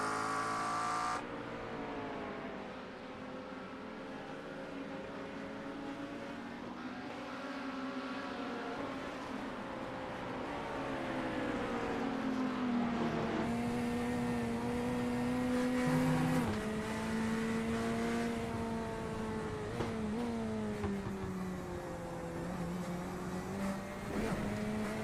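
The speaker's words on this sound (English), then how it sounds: "So back off the back of Leo Dragotta's McLaren" Race cars scream through the corners at Sebring during a World Challenge round, one a McLaren, their engines droning loudly and continuously with rising and falling pitch as gears change and cars pass.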